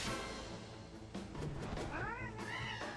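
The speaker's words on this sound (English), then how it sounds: "A mini cat!" A mini cat enemy in the video game Dragon Quest XI gives several short, close meows in quick succession, clear and alone with no talk.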